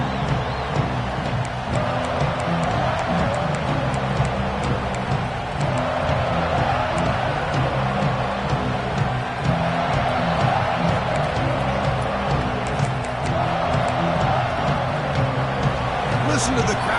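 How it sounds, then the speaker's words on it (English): Stadium crowd in an American football video game, a continuous broad roar of many voices that swells slightly at times, heard throughout with a commentator talking over it. "Listen to the crowd energy here in the early going."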